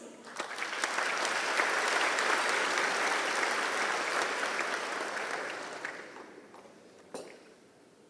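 An audience at a formal European Day dinner banquet in Taipei applauds in a broad, sustained burst of clapping that swells quickly, holds for several seconds and then fades out, with a few scattered claps near the end.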